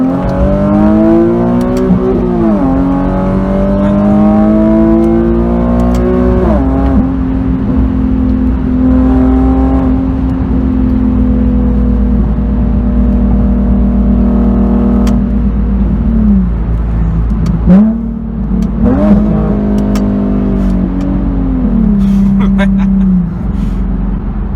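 A modified 2011 Infiniti G37xS coupe engine revs hard and loud, climbing and dropping in pitch through repeated high-RPM pulls with a steady drone between, while people talk inside the car.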